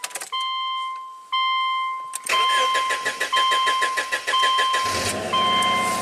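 A Subaru engine with two replaced left-bank ignition coils is cranked after a few beeps and warning tones, then catches and runs with a steady, loud, slightly uneven idle close by.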